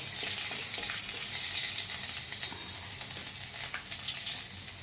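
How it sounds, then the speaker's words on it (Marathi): Curry leaves sizzling in hot oil for a chana dal amti, a bright continuous spatter and hiss that eases slightly toward the end, heard close up with no talk. "तेल टाकून हे कढीपत्ता टाकला मी"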